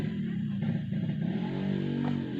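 Yamaha RX King two-stroke motorcycle with a full stainless Cobra PDK exhaust, its engine revving up and settling back with a buzzy, throaty drone, close and fairly steady.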